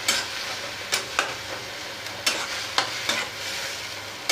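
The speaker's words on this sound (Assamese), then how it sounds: "লৰাই দিছোঁ।" Fish head and taro leaves being stirred in a sizzling pan, with a steady frying hiss and a few sharp scraping strokes from the stirring utensil spaced irregularly through the clip.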